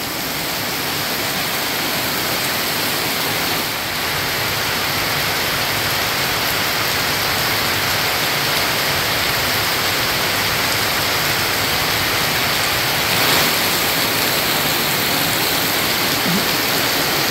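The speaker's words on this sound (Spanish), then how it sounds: "Mire, gran poco de agua que cae." A heavy rainstorm pours down in a dense, unbroken hiss of falling water, loud and steady throughout without voices.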